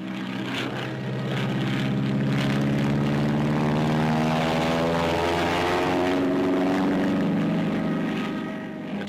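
Grumman F7F Tigercat twin-engine WWII fighter in flight, a loud sustained propeller drone that swells and fades as it passes, with shifting engine pitch throughout and no talk.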